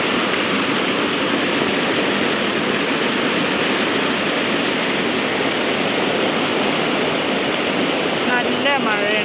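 Heavy monsoon rain at a house in Kerala pours down as a dense, loud, unbroken hiss, with a faint voice briefly near the end.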